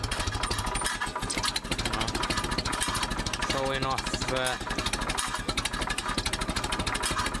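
A Ferguson TED 20 tractor engine runs steadily nearby with a regular idling chug, while someone talks over it throughout.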